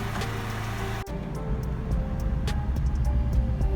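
A Porsche 997 engine runs steadily at idle, a low continuous hum with a brief dip near the start, then faint ticking clicks on top. No one speaks.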